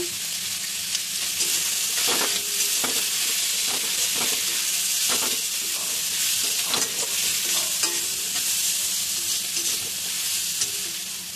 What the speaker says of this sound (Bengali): আলুর সঙ্গে মশলাটা আমার ভালো করে ভাজা ভাজা হয়ে গেছে।